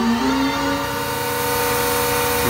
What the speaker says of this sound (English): For this example, we'll turn on the air compressor.